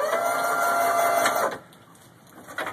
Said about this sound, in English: his 12 volt winch, which is wired into his battery, and his handheld remote control